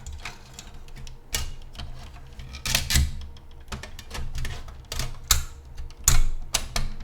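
Arctic Freezer 50 CPU air cooler's central piece being pushed back into its toothed heatsink, producing rapid clattering clicks and grinding rasps with repeated sharp bursts, close up and without talk.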